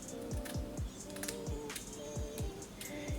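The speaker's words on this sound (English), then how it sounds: "So I'm gonna cut this lace into like 4 little sections" Scissors snipping through the lace of a 13x6 loose curly frontal wig, several crisp cuts in a quick irregular rhythm, close and fairly loud, with no talking.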